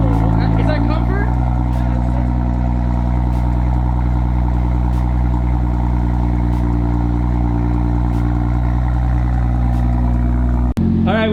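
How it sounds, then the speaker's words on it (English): A BMW car engine runs at a steady, loud idle close by, a deep continuous rumble that holds evenly before cutting off sharply near the end. "Oh my god, such a good sounding engine"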